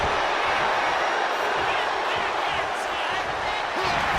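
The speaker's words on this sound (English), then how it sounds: "listen to the crowd get behind him" A virtual arena crowd in the wrestling game WWE 2K26 roars with a steady, dense wash of cheering and hubbub during a match.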